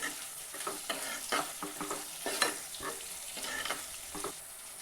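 Chillies with turmeric and salt are stirred in a pan for a sambharo relish, giving a rhythmic series of spatula scrapes over a light sizzle, close and fairly quiet.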